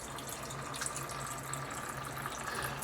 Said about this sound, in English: the oil's flowing free